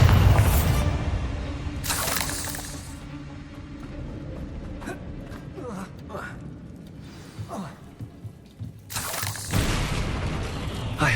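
Blasting spell explosions from Hogwarts Legacy boom out in a few heavy, crackling bursts amid a spider fight, with a loud one early on and another near the end over quieter battle noise.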